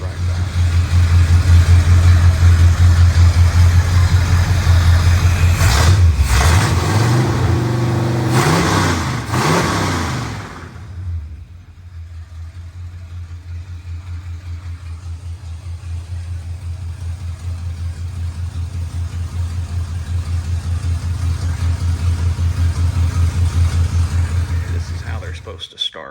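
A 1964 Pontiac Catalina engine runs loud and close, with a few sharp revs in the first ten seconds, then a drop to a steady idle that slowly builds again.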